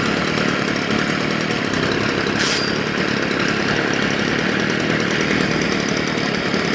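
Stihl FS 55 petrol grass trimmer with a carburettor fault that loses revs and stalls, its small two-stroke engine buzzing loud and steady close by, with a brief high squeak partway through and no voices.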